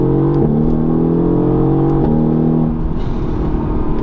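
A Mercedes-AMG GT-R with a 585 hp engine accelerates hard and loud, its rising engine note cut by very fast upshifts, with quick breaks and drops in pitch between each gear.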